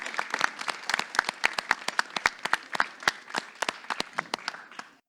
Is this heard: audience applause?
yes